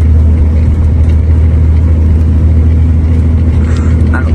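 Car engine held at steady throttle in fifth gear, a constant low rumble with strong bass droning evenly throughout, close and loud with no clear rise in revs.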